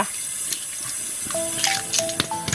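Tap water runs and splashes over freshly washed hoi muak jek snails in a kitchen sink, a steady close stream with light clinks and knocks of shells against the basin.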